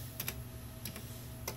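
Computer keyboard keys tapped in a few short clustered bursts, quiet and close, while setting up a retro modem's network parameters, with a low steady hum underneath and no talking.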